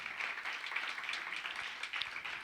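A church congregation claps together during a Tuesday prayer service, a soft, distant patter of many hands that stays steady and continuous throughout.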